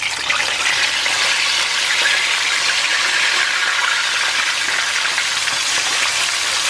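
Quail sizzles in hot oil with curry leaves for a Sri Lankan fried quail dish, a loud, steady, close frying hiss with dense crackling bubbles that continues without a break.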